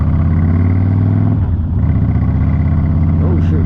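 A 2008 Harley-Davidson Crossbones motorcycle rumbles steadily on a test ride after new front-end neck bearings, its loud low engine drone close and continuous, with a brief dip in tone partway through.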